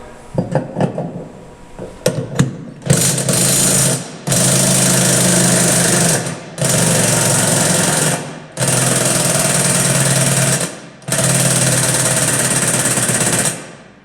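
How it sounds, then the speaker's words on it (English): A power tool with a socket runs in four long, loud, steady bursts separated by brief stops, tightening a nut on a washing machine, close up after a few lighter clanks at the start. "Now I got to tighten that nut up."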